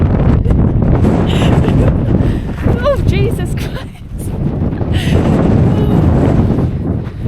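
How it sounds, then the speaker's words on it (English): Strong wind roars loudly across the microphone throughout on a mountain in Ecuador, with a person briefly exclaiming in the middle. "it's very windy"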